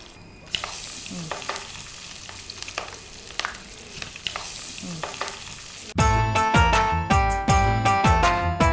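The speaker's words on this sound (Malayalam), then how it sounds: "എണ്ണ തിളച്ച എണ്ണ റെഡിയാണ് ദാ ഈ മസാലയൊക്കെ പിടിച്ച ചിക്കനും റെഡിയാണ്" Chicken coated in masala fries in hot oil on a Kerala cooking show, crackling and sizzling steadily with occasional utensil clinks for about six seconds. Loud rhythmic music then takes over.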